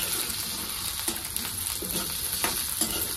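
Green peas sizzle and crackle steadily in hot oil with garlic and chillies, a close, continuous fry broken by a few louder pops and stirring scrapes.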